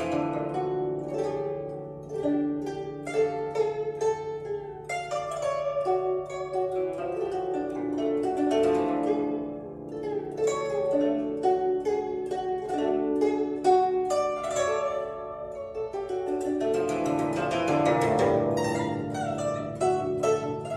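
Excerpt from a composed piece in the Chaozhou school style built on whipped beats, with dense layered melodic instruments playing continuously and fairly loud throughout, and no voices.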